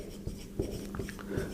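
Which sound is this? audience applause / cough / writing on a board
writing on a board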